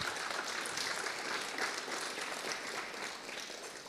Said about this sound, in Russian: Можно аплодировать, давайте.